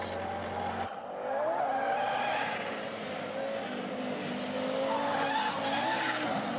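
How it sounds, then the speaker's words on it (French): Onboard an Audi Quattro S2 rally car driving a special stage at the 1994 Rallye Charlevoix near Pointe-au-Pic, the engine revving hard through the gears with tires squealing and skidding, loud and continuous. "À bord de la voiture de M. Frank Sprangel, cette fois-ci, l'Audi Quattro S2."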